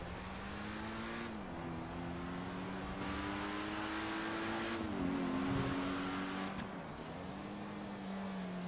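A naturally aspirated 560-horsepower V12 sports car in GTA 5 drones steadily, its pitch stepping up and dropping back through gear changes, with a sharp pop near the end and no talk.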